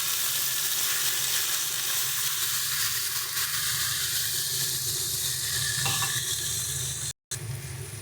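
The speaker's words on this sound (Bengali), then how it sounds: "দিয়ে দেবো কেটে রাখা লাউটা।" Chopped bottle gourd sizzling in oil with cumin and bay leaf, a loud continuous hiss that fills the whole stretch, close up, with a brief cut near the end.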